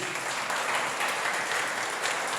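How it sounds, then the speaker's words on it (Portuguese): Church congregation applauding, a dense, even roar of many hands clapping, loud and continuous for the whole stretch with no talk over it. "Aplauda pela vida deles."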